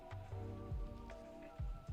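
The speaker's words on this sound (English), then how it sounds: "it's also raining on and off." Rain falling on and off onto a surface, heard as a soft patter of scattered drops under low background hum, with no one talking.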